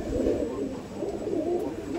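A female pigeon, a Madrasi breed kept for flying tournaments, coos softly while held in someone's hands, a low continuous rolling murmur close by.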